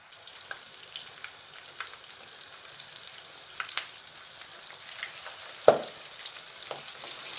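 Chapli kebab frying in hot oil, a steady close sizzle and crackle throughout with a sharp spatter burst near the end, no talking.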